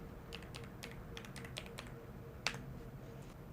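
Light, quick keystrokes on a computer keyboard spell out a short folder name in an irregular burst of soft clicks, with one sharper tap near the end, all quiet and close over faint background hum.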